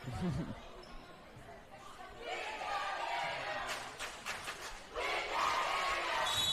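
Eastlake crowd at a girls varsity volleyball match yelling in unison, a loud rhythmic massed chant building in waves over gym noise and scattered voices, with a shoe squeak or whistle-like tone near the end.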